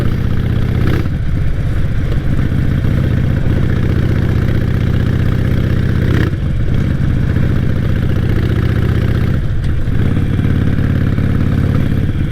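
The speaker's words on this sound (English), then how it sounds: "This bike is just so loud though" A loud motorcycle engine idles close by, rumbling steadily with a few brief revs or surges spaced through the clip.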